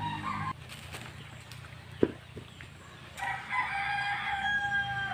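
A rooster crows loudly and nearby, twice over a few seconds, with hens clucking and other farmyard birds in the background of a rural home where banana chips are being cooked.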